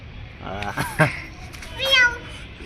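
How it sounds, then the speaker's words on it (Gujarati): Two short cat meows come through a noisy, close background, spaced about a second apart, with a voice nearby. "એ આ બિલાડી ક્યાં આવી હે બિલાડી ક્યાં અવાજ આવે"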